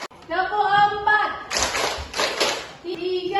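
A class of children clapping in a patterned rhythm in a classroom, a brief burst of loud claps between stretches of a teacher's speech.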